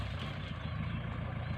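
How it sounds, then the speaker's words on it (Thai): A Kubota tractor engine runs at a steady low rumble while it drives through a waterlogged field, with a constant close drone and no break. "ดูรถไถครับบุก"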